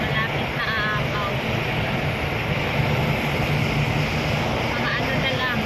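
Floodwater rushing high beneath a bridge makes a steady, broad roar with wind buffeting the microphone, constant and close throughout.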